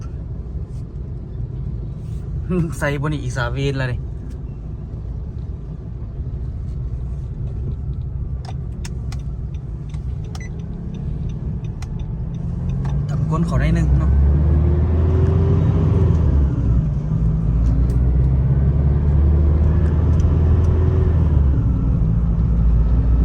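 A car engine rumbles steadily and grows louder and deeper partway through, while people talk over it.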